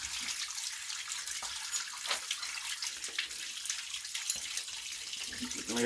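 Water drains from an opened pump housing after its last bolt is removed, a steady close splashing and trickling stream that runs without pause for several seconds with no one talking.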